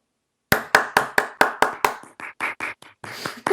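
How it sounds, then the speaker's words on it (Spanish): A small group of radio hosts in a studio gives a brief round of applause, with roughly a dozen distinct, close claps in a steady rhythm that loosens and fades toward the end. "Yo voy a proponer un breve aplauso"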